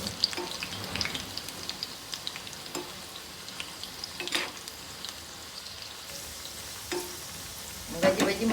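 Moong dal pakoras fry in hot oil with a constant gentle crackling sizzle, broken by occasional scrapes and taps of a stirring spoon, heard close and without talk.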